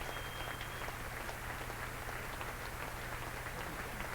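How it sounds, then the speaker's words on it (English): A cricket ground crowd applauds steadily during a Test match with Australia fielding, a dense, continuous wash of clapping heard from a distance at an even level throughout. "The applause was for John Arlott, his last commentary."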